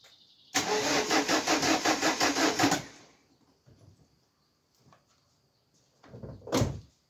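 A Renault 11 diesel engine cranks rhythmically for a couple of seconds and stops, followed by a few quieter clunks and a louder thump near the end.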